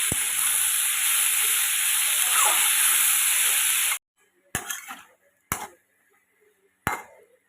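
Potato curry with salt and turmeric being stirred in a hot pan, a steady frying hiss for four seconds, then silence broken by three sharp separate clinks and scrapes of the utensil against the pan.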